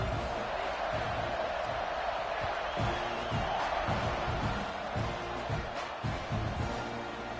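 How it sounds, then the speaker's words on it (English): Football stadium crowd buzzing after a score, a steady distant roar of many voices with scattered whoops and thumps. "this crowd is buzzing after that last score"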